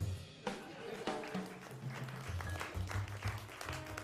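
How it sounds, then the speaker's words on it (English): A cabaret audience claps for a magician's rope trick, scattered hand claps over a low murmur of voices and some low tonal sound, fairly faint and distant. "Why are you clapping?"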